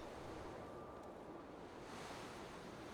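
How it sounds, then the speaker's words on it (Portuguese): Wind howls from a shaft in the video game Dear Esther, a steady, dense rush of hollow noise that holds at an even level throughout with no voices. "É o barulho do vento, né?"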